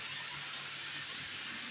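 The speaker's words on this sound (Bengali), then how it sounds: "ওদিকে প্রেশার কুকারের সিটিটা আমার হচ্ছে" A pressure cooker whistle releasing steam in a home kitchen, a steady loud hiss that runs unbroken through the whole short moment with no voices.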